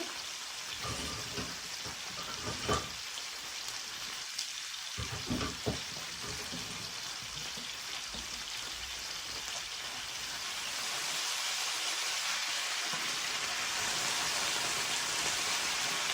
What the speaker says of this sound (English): So now we're going to give the potatoes a little stir.